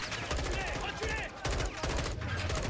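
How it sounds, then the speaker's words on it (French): Heavy gunfire in a Modern Warfare II battle scene, continuous rattling automatic fire filling the whole short clip, close and loud, with shouting voices mixed into the barrage. "On subit des tirs nourris."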